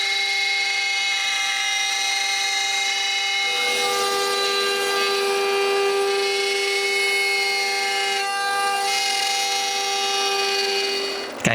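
Drill press cutting wooden plugs, with a steady, loud, high whining tone held throughout, a brief dip in pitch partway through and a small knock at the end.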